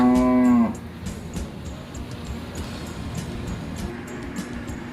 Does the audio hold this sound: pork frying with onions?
no